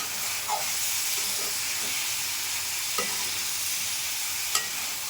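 Mixed vegetables fry in ghee in a pan, a continuous close hiss and sizzle with a few soft stirring knocks.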